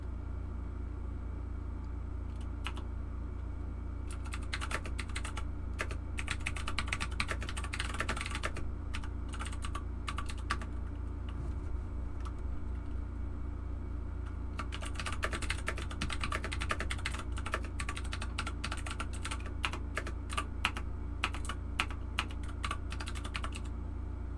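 Computer keyboard typing at a press conference, heard in quick clattering bursts with pauses between them over a steady low rumble of room noise. Nobody speaks.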